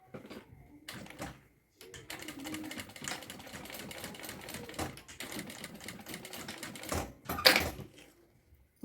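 A sewing machine stitching a strong thread through a fixed bag strap, giving quiet uneven bursts of rapid mechanical clatter with short pauses between runs.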